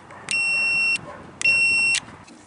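A portable car jump starter with air compressor lets out two loud, steady electronic beeps, each about two-thirds of a second long, when its positive and negative clamps touch and short together.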